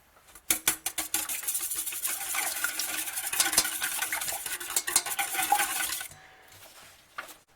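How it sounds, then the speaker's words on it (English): A spoon stirs coconut oil and vanilla extract in a bowl for keto apple fritters, giving a quick run of close clinks and scrapes against the bowl that fades out near the end. "and vanilla extract, and mix it together"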